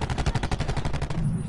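Rapid automatic gunfire in a video game: one fast, loud burst of evenly spaced shots lasting about a second, then it cuts off, with no talking over it.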